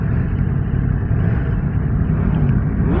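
A Yamaha MT-10 SP motorcycle engine drones loud and close at a steady pace on a cold test ride, a dense, even low rumble with no clear revs or gear changes.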